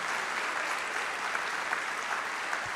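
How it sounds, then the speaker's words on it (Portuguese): Congregation applauding inside a church, a steady, even wash of many hands clapping at moderate distance, continuous for the whole stretch without voices standing out. "Tem que aplaudir o Senhor por isso, não é, gente?"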